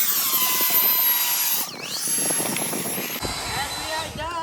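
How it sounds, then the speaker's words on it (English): A small shop vac runs with a vacuum hand sander attachment hooked to it, giving a loud, steady whining roar close to the microphone that shifts in pitch and character partway through. "we're here today to test out this hand sanding vacuum attachment I got at Lowe's. It's hooked up to this small shop vac"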